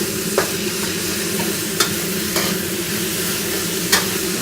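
House sauce poured into Rard Nah noodles in a hot wok, a steady close sizzle of frying with a few sharp scraping clicks from stirring.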